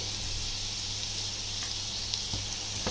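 Onion and green chillies frying in ghee in a pan, a steady close sizzle with a constant crackling hiss throughout.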